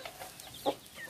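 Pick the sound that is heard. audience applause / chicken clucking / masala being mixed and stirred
chicken clucking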